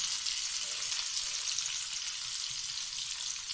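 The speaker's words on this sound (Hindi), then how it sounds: "अब लाइट सा बिल्कुल टमाटरों को भी हम फ्राई करेंगे, थोड़ा सा नमक डाल के और सोया सॉस डाल के।" Tomatoes fry with salt and soy sauce in a pan, a steady close hiss of sizzling that runs without a break for a few seconds.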